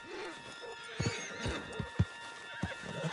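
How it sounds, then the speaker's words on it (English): A horse in the video game Red Dead Redemption 2 whinnies while its hooves clip-clop in a few distinct thuds, over a faint sustained musical drone. "Put Strauss on the back of John's horse, and let's get out of here."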